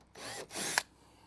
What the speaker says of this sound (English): Now we have to drill this hole, which is where that right angle drill bit comes into handy.